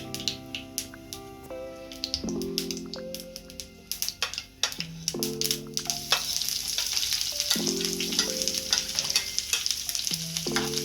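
Shallots sizzle steadily in hot coconut oil with mustard seeds while a spatula scrapes and clinks against the pan in repeated stirring strokes, close and continuous.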